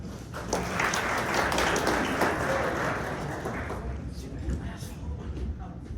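Audience applause at a Good Morning Corona community event as a cleaning services business is introduced, a dense wash of many hands clapping, strongest at first and gradually thinning toward the end.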